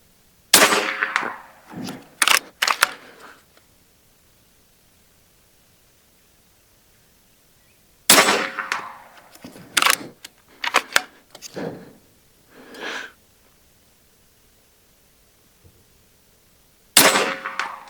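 Sharp cracks from a Hatsan Factor regulated carbon .357 bullpup airgun, with metallic clangs of hits on targets, come in short bursts of several shots separated by long silent pauses.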